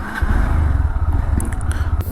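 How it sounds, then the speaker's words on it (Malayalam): A Honda Hornet 2.0 motorcycle engine starts up close by and settles into a steady, loud low rumble with a slightly uneven idle pulse. "അടുത്തായിട്ട് വണ്ടി ഒന്ന് ഓണാക്കി വെക്കാം."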